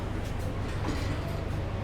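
Gajayana executive passenger train in its new 2025 stainless-steel carriage set, running with a steady low rumble and rolling rail noise heard from inside the car, continuous and moderately loud, with no voices.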